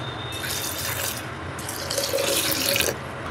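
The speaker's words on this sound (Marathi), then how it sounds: "आता आपण पाणी घालूया।" Water pours steadily into a mixer jar of soaked rice in a home kitchen, a continuous close splashing flow that swells slightly toward the end.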